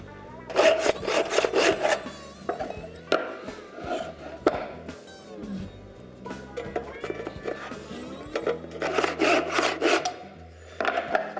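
Handsaw cutting through a wooden board for a bullion fringe loom stand, loud rasping back-and-forth strokes in several bursts with short pauses between, close and alone without talk.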